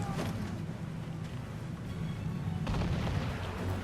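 Cannon fire from sailing ships in a naval battle in Assassin's Creed IV Freedom Cry: a dense, continuous low rumbling roar of booms that swells slightly toward the end, with no pauses between shots.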